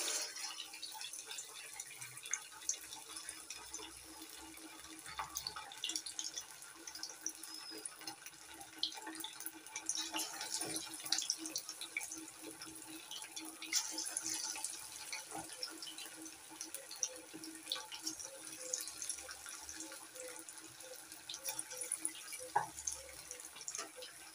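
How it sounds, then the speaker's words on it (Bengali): Chicken pakoras sizzle in hot oil in a home kitchen, giving a steady, fairly quiet bed of fine crackling and popping that runs the whole time with no voices. "এবার একটা একটা করে পকোড়া ভেজে নেব। পকোড়াগুলো তেলের মধ্যে দিয়ে দিচ্ছি।"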